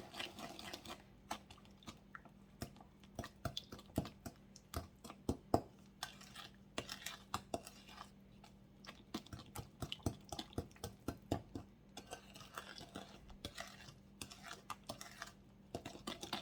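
Oil, sugar and egg being mixed in a bowl for a zucchini cake, giving a steady run of small clicks and taps of utensil against the bowl, moderately close with no talking.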